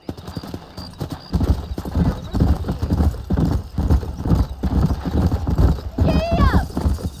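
A horse gallops with rapid, rhythmic hoofbeats in Red Dead Redemption and gives a brief whinny near the end. Someone speaks over the running hooves.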